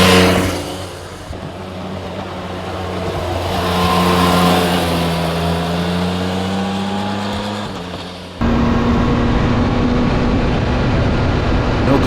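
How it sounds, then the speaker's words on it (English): A 2024 Yamaha MT-09 motorcycle engine climbs and drops through the gears with a quick shifter on winding roads, rising tones broken by abrupt shift changes, loud and close, with no voices. "just clicking up and down through the gears at will, tapping the brakes slightly in corners"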